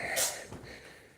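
A short, sharp sneeze from an old cat bursts out near the start, a brief breathy burst followed by quieter noise and soft low rustling.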